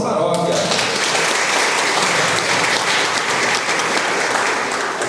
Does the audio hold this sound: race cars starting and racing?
no